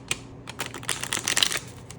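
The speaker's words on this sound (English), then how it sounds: "We're gonna shuffle these up." A deck of playing cards being shuffled, a rapid flurry of crisp riffling flicks building and fading over about two seconds, close and fairly quiet with no talking.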